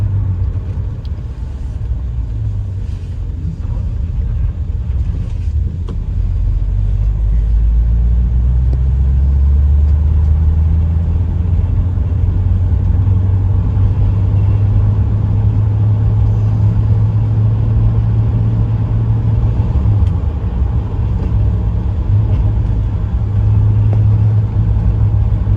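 A 1963 Ford Fairlane 500 sedan drives and accelerates, its engine giving a steady, loud low rumble with a rising drone as it gets up to speed, heard from inside without any talking.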